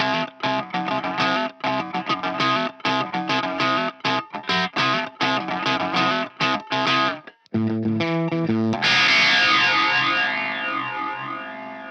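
Electric guitar played through effects pedals including a Gonkulator and PH2: choppy, distorted phrases with chorus and echo, ending in a sustained, shimmering wash of ringing notes.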